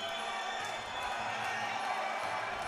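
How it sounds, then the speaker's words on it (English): Crowd noise at a live Muay Thai bout between Ryan Sheehan and Jomhod Eminentair, a steady roaring din of cheering spectators that carries on unbroken throughout, filling the arena with dense, continuous sound. "Crowd really getting behind this one"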